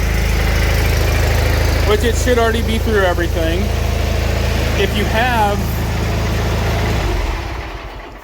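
A two-cylinder lawn mower engine idles steadily with a low, continuous rumble while someone talks over it, the motor cutting out near the end.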